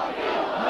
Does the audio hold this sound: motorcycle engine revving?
no